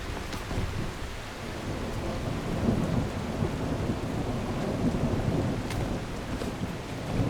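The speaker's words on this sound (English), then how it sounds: "very stormy." Steady heavy rain with rumbling thunder from a thunderstorm in the video game The Last Caretaker, a dense continuous wash of noise with low rolling swells, loud and alone without voices.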